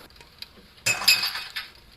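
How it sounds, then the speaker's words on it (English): Shattering glass as a sound effect in a Bob Velseb dating sim, a single bright crash with tinkling fragments lasting under a second, faint and somewhat distant, with no talk over it. "there was a sound of shattering glass that came from upstairs"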